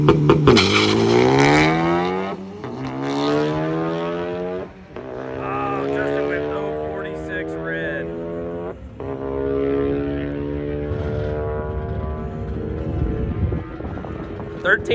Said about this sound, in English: Stock turbo E30 Focus ST versus E30 S280 Fiesta